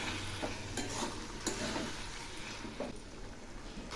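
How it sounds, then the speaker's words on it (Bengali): Bottle gourd and poppy seed curry being stirred in a pan, a steady soft scraping and gentle sizzle running throughout with a few brighter clinks of the spoon against the pan. "একটু নেড়ে দিচ্ছি।"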